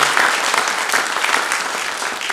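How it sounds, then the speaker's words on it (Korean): A church congregation at a Sunday morning service claps to welcome a newcomer: dense, loud, sustained applause filling the room with no talking over it. "박수 우리 한번 환영하도록 하겠습니다"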